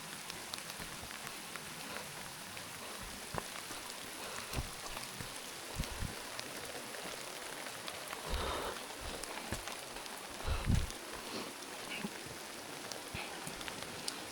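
Heavy rain falls steadily on a mountain hiking trail at Bukit Kelir, Purbalingga, a dense continuous hiss with scattered louder drops and brief knocks, no talk.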